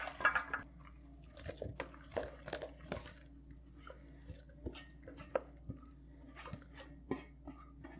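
Scattered clinks and scrapes of a utensil stirring a chili oil and garlic mixture split across two bowls, soft and close with irregular taps against the bowls and occasional quiet clatter.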